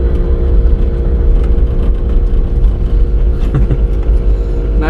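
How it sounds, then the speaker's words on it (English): A mini truck's engine drones steadily and loudly as it churns through deep snow in 2-wheel drive, with a constant low rumble and faint scraping. "Not great in 2-wheel drive, Minnie."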